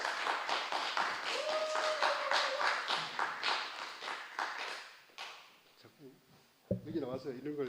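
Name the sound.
audience applause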